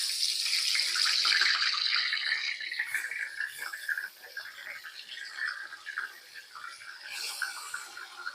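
Grated bottle gourd tipped into hot ghee gives a steady, soft hiss and sizzle with faint scraping, fairly quiet and continuous with no voices.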